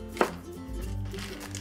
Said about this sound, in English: That's last thing we need to do is just cut the scallions.